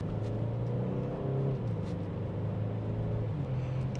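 A 2025 Genesis G70 with a 3.3-liter twin-turbo V6 and an 8-speed automatic cruises along, its engine giving a low, steady, muffled hum heard from inside the cabin, fairly quiet and without talk.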